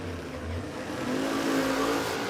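Drag racing car at a dragway launching down the strip, a loud, continuous engine roar that climbs in pitch as it accelerates away, heard at mid distance with no talk over it.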